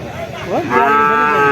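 At a cattle market, a heifer calf gives one drawn-out moo that rises and holds, heard up close against a background of market chatter.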